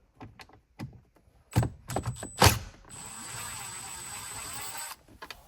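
Phillips screws being backed out of a Nissan Titan center console, a few close, sharp metallic clicks and a ratcheting scrape, followed by a sustained bright hiss before quiet handling noises.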